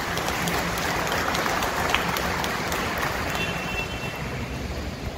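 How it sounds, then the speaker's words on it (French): Congregation applauding in a church after a solemn Mass in honour of Saint Louis, a dense, sustained wash of clapping that fills the space evenly for several seconds. "applaudissements et bravo"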